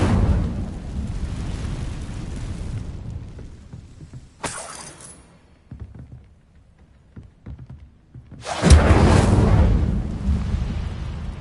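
An Incendio fire spell cast in the video game Hogwarts Legacy erupts as a fiery whoosh with crackling bursts, a brief flare followed after a quieter pause by a louder, sustained surge.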